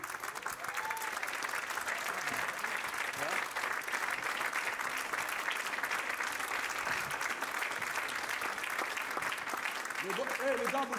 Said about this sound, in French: Venez, on les applaudit encore bien fort